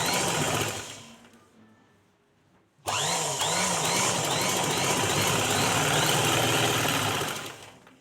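A sewing machine runs in rapid even stitches along the hook strip of a cotton blouse, close and loud; it slows and trails off, falls silent for a second, then restarts abruptly and runs steadily to the end.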